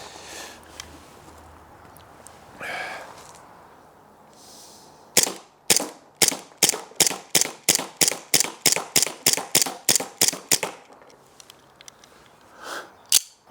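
A Remington 1911 RAC 4.5mm CO2 air pistol fires a rapid string of about eighteen sharp, evenly spaced shots after a quiet stretch with faint handling noises, close and crisp with no talk.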